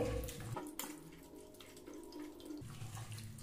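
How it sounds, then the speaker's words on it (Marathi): Fenugreek leaves are rubbed and washed in salt water at a sink, with continuous running and splashing water and a few louder bursts. "ही मेथी मी स्वच्छ अशी चोळून"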